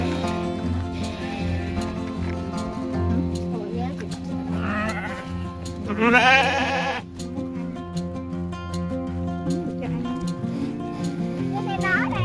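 Sheep bleat at a farm, several calls rising above a busy background, with one louder, closer bleat midway, while people talk throughout.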